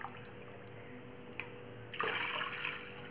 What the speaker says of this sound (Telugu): ఒక గ్లాసు పాలు ఇంకో గ్లాసు నీళ్ళు